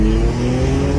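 Straight-piped Infiniti Q50 launches hard at a traffic light, its exhaust a loud, close, continuous roar with a steady low drone throughout the short burst.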